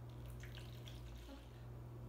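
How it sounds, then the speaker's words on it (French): Lukewarm tap water pours into a bowl in a kitchen while bread dough is being made, a faint, steady trickle over a constant low hum. "j'utilise 300 g d'eau tiède, du robinet tout simplement. Donc je les mets dans mon bol."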